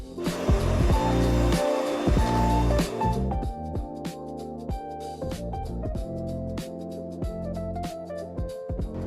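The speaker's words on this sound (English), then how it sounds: "Now we beat everything together until it becomes a uniform mixture." An electric mixer beats cookie batter made with orange zest and orange juice, giving a continuous whirring motor drone that wavers and knocks as the beaters move through the bowl, close and fairly loud throughout.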